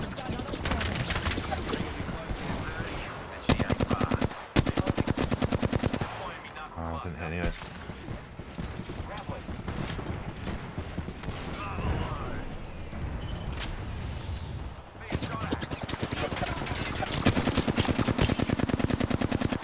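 Apex Legends gunfire: rapid automatic bursts and sustained rattling volleys fill the stretch, loud and close, with brief pauses between strings of shots and some game sounds mixed in.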